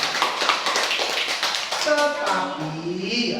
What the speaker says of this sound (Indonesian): Tepuk tangan dulu untuk kelompok semuanya.